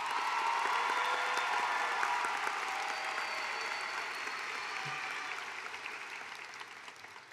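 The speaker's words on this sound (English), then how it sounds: "A round of applause for these outstanding seniors." A large commencement audience applauds graduating seniors, broad sustained clapping that fills the venue at moderate distance and slowly fades over several seconds.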